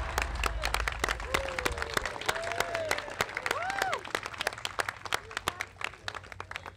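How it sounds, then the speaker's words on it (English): Audience at an event with Barack and Michelle Obama clapping steadily, sharp close hand claps over a crowd backdrop, with brief whistles and cheers rising in the middle. "so you can go ahead and clap"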